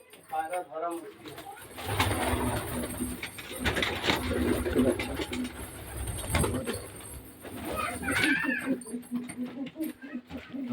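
Pigeons coo close by, including a red and black Matraj breed, under steady talk, rustling and handling noise.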